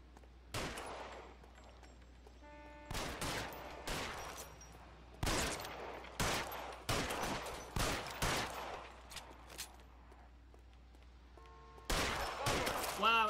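Gunshots from the remastered L.A. Noire game, sharp loud cracks fired singly and in quick clusters, about a dozen over several seconds with brief pauses between bursts, against a low steady hum.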